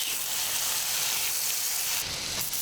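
Chipotle copycat chicken pieces fry in oil in a pan, giving a steady, even sizzling hiss that carries on without pause, with a brief brighter burst near the end.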